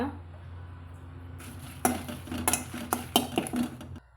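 Dried red chilies and curry leaves roast in a pan, heard as a faint dry sizzle followed by a run of metallic scrapes and clinks from stirring, close by.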